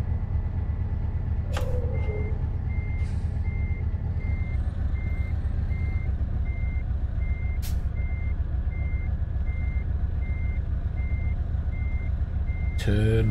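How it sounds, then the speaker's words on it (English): A truck in Euro Truck Simulator 2 reverses with a steady, evenly spaced beeping alarm over a constant low engine rumble. A few brief air-brake hisses break in along the way. "Beep."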